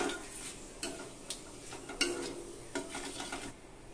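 A spoonful of nigella seeds tempers in hot oil while cooking rui fish, a faint soft sizzle under a few light clinks and scrapes of a utensil against the pan.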